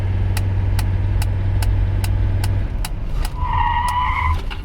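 A Mercedes 300CD brakes hard while its rotors are bedded in. Steady close engine and road rumble with faint rhythmic ticking gives way to rising brake squeals as the car slows.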